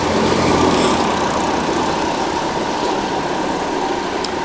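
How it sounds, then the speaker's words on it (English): Gas-powered karts race around an indoor/outdoor track, their small engines making a steady, loud, continuous drone with no break and no voices over it. "You have some really fast karts coming up from behind."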